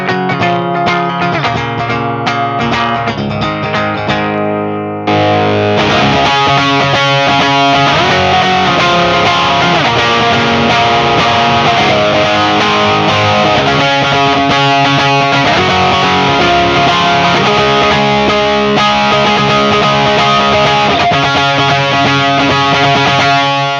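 Electric guitar run through a Tube Screamer overdrive pedal, starting with clean-ish picked notes, then kicking into a thick, loud, steadily distorted tone with reverb that carries on to the end.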